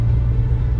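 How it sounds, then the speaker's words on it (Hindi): A car engine roars under strain on a steep mountain climb in low gear, a deep, steady, loud rumble throughout a short stretch without talk. "और इंजन की रोरिंग तो आप सुन ही रहे होगी, बिल्कुल खड़ी चढ़ाई"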